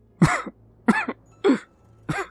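Four rough, hacking coughs in an even rhythm, close and fairly loud, each a short harsh burst with quiet gaps between.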